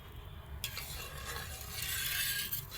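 Milk curdled with vinegar is stirred in a pot to make chhena, giving a soft continuous swishing and faint scraping of a spoon close up, with no talk.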